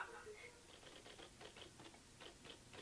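Quick, faint tapping of typewriter keys in an irregular run, fairly quiet and distant with no other sounds.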